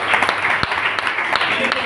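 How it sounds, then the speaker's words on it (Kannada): Congregation at an all-night Kannada prayer service clapping loudly and steadily in a dense, continuous wash of claps throughout, with a voice faintly audible underneath. "ಚಪ್ಪಾಳೆ ಹೊಡಿ ಜೋರಾಗಿ"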